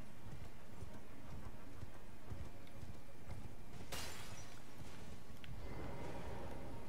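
Horse hooves galloping in a video game, a rapid continuous drumming of hoofbeats at steady volume, with a couple of sharp crashing bursts partway through.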